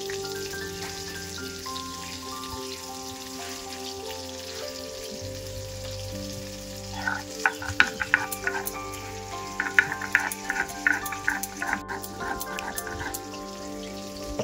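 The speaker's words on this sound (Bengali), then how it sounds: "মাছগুলো ভাজা হয়ে গেছে, আমি এবার তুলে নিচ্ছি।" Koi fish fry in oil in a pan, a continuous sizzle that grows into busier crackling pops partway through, heard close over faint background music.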